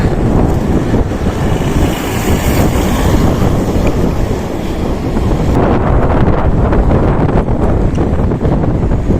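Strong, steady wind roaring across the microphone while riding a bike, loud and continuous, with rushing gusts and no talking.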